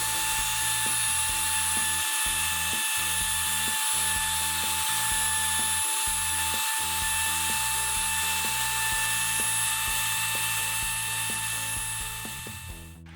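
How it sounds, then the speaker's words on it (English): A high-pitched router with a rounding-over bit whines steadily and close up, easing the edges of a handle, with a rhythmic low chatter underneath as it cuts. "I used a rounding over bit and a router to ease the edges on my new handle."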